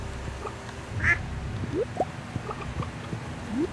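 Ducks quack in a farm coop in the video game Stardew Valley, several short quacks scattered over a steady background hum, fairly close and clear with no talking.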